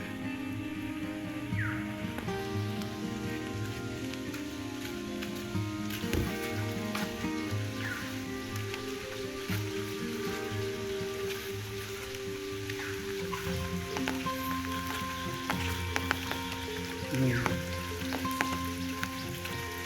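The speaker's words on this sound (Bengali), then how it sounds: "আজকে যে অনেক বৃষ্টি হয়" Dense, steady patter of rain drumming on surfaces, continuous and fairly close, with scattered louder drips throughout.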